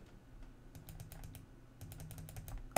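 Clicking on a computer while closing pop-up windows: bursts of light, crisp clicks in two short clusters with quiet gaps between, ending in one louder knock.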